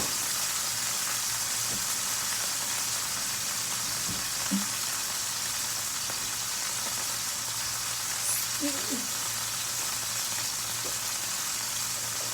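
Beef fries in oil in a pan, giving a loud, continuous close sizzle with a faint low hum beneath and a few soft clinks, with no one talking.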